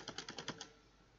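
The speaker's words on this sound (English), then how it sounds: "You see, I am typing." Quick keystrokes on a computer keyboard tap out a short burst of about six clicks, faint and close, fading into quiet room noise.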